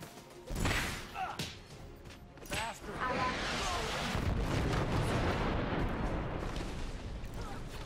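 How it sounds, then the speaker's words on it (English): Orbital cannon firing in the video game Infinite Crisis: sharp booming impacts early on, then a long rumbling roar of explosions that swells and holds, with game announcer voice lines mixed in. "We have fired the orbital cannon."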